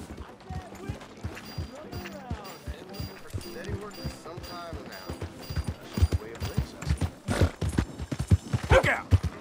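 Horse hooves clop in rapid rhythmic beats in the Red Dead Redemption 2 video game, fairly quiet and mixed with game effects, while several people talk and shout over the top.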